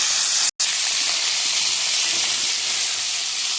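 Chili powder masala fries hard in a hot pan, giving a loud, steady sizzling hiss that breaks off for a split second, then carries on unchanged.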